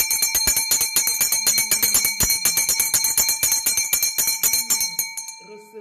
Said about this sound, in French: Je vais sonner la cloche de l'argent.